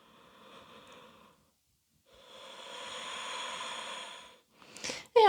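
Deep breaths during a yoga hip mobility session: a slow airy inhale, a pause, then a longer steady breath, with a brief rustle and a louder sound at the end.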